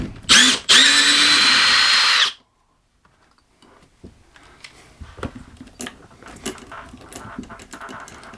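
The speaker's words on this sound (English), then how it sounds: "let's get these lag bolts out" A power drill or impact driver loudly spins out lag bolts holding a motor and gearbox to a wall, two short bursts then a sustained whine of about two seconds, followed by quiet scraping and handling noises.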